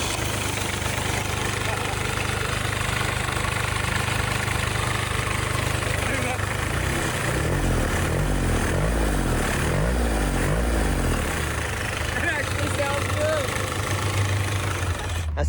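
A turbo diesel engine fitted to a John Deere motorcycle idles loudly and close, a continuous rough rumble with a rhythmic throb through the middle, running on its own with no talk over it.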